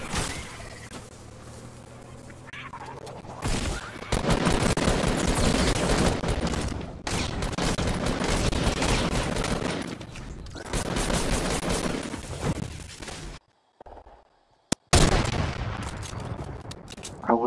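Rapid bursts of gunfire in the video game Fortnite Battle Royale, loud and sustained across several volleys broken by short silent gaps, with one sharp isolated shot near the end.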